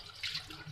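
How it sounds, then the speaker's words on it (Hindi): Chhena curds washed by hand with water for a rasmalai or basundi recipe, a short soft burst of running and splashing water lasting under a second. "इसको हम थोड़ा सा पानी से हाथों की सहायता से धोएंगे छेने को"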